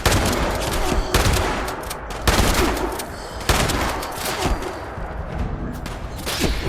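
Rapid bursts of gunfire in the video game Fallout 76 come in repeated volleys, loud and close, with short gaps between the rounds of shots.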